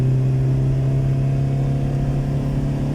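The engine of an Opel Corsa B with low power and over-fuelling drones loudly and steadily while pulling away, a close, sustained mid-pitched hum with little change in pitch.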